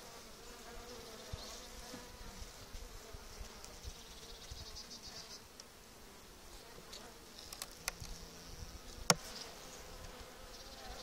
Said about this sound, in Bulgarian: спокойните пчелички